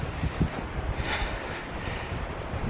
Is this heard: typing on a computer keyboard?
no